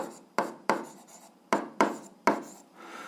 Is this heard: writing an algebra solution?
yes